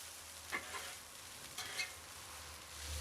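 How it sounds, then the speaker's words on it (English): Fried rice crisps on a griddle while a spatula stirs it, a faint steady sizzle with a couple of quick metallic scrapes. "Okay, so I'm going to stir my rice. I'm getting a nice crispiness, crispy bits on there."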